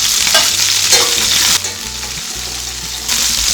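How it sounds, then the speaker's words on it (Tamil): Shallots, curry leaves, crushed garlic and green chilies sauté and sizzle in a pan for a raw banana stir-fry, with steady close frying hiss and a few scraping stirs, no talk. "வெங்காயம் நல்லா வதங்கட்டும்"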